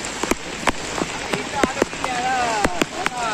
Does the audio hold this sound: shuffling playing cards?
no